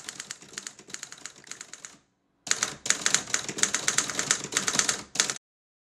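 An Underwood Touchmaster Five typewriter types in close, rapid bursts of crisp, snappy keystrokes, pausing briefly before a second, longer run of dense clacking that stops abruptly.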